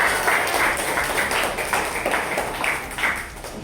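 Students in a school science lesson applaud together, a dense, continuous patter of many hands clapping at once that holds steady throughout.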